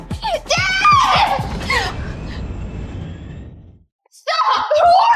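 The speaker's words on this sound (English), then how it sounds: "Don't bother screaming" A young woman in a drama screams loudly and frantically, a long anguished cry that fades out, then another burst of shouting after a brief silence.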